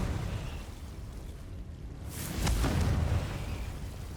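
A Confringo fire spell bursts in Hogwarts Legacy, a single moderately loud blast with a sharp onset, followed by a rumbling, crackling tail over low background ambience.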